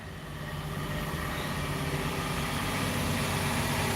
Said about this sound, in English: like a truck coming up on my side here.